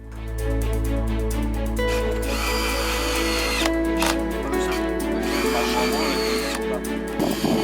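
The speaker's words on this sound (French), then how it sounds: "nous avons percé les poteaux à 30 cm de chaque extrémité pour y visser les pattes" A power drill bores holes into wooden posts, a loud, close, sustained whirring whine with pitch shifts as the bit bites into the wood, over talk.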